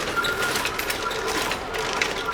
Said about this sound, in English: The sewing machine makes a really great sound, doesn't it?